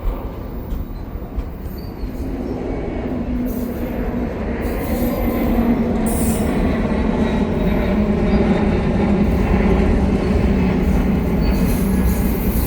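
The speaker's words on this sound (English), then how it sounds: "this looks like it's probably the end of the train with all these auto racks" A CPKC freight train hauling auto racks rolls past at Dorval, with a loud, continuous rumble of wheels on rails, rhythmic clatter and occasional high wheel squeal close by.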